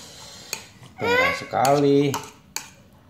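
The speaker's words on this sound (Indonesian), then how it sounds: "Terus diaduk-aduk sini dong. Aduk-aduknya, wow." Samyang instant noodles stirred in a bowl, with sharp utensil clinks against the bowl near the start and the end. A voice speaks between the clinks.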